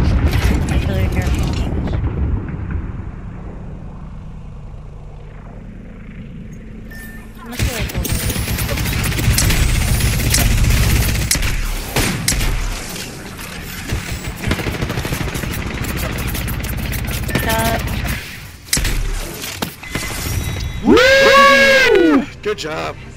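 Artillery strike in Apex Legends, a burst of heavy explosive impacts and mechanical game noise over a loud, busy mix, with players talking throughout.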